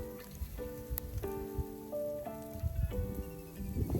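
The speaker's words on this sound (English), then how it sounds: "Oh my god, there's freezing rain coming down." Freezing rain falls at midnight as a Gulf Coast blizzard arrives, with soft scattered ticks and patters near the ground under faint steady tones, and no one talking.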